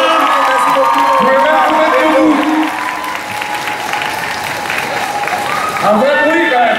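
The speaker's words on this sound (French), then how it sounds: "je vous demanderai de faire un tonnerre d'applaudissements pour Tyler" A convention crowd at a Paris manga event applauds Tyler Hoechlin with loud, sustained clapping and some cheering, while a presenter's voice carries over the top, the applause dipping slightly midway before swelling again.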